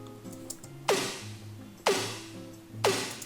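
Three layered snare hits built from a cat meow sample, each a sharp bright crack with a quick decay, landing about a second apart over a soft low background tone.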